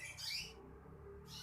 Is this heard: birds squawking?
yes